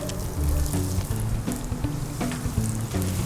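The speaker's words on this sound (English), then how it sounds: "then they're gonna hit the deep fryer" Hot oil bubbles and sizzles densely as salmon cakes deep-fry, a continuous crackling hiss with some low rumbling underneath, close and fairly loud.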